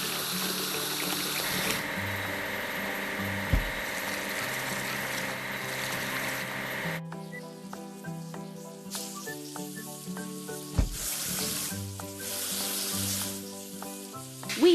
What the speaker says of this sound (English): We need to wash the timber loader.